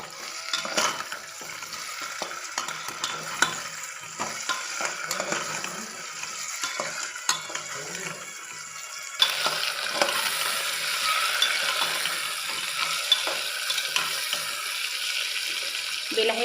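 Chillies and tomato pieces stirred in a pan, with a close sizzle and uneven spatula scrapes through the first half, then a broader, steadier hiss of frying that carries on to the end, no voices.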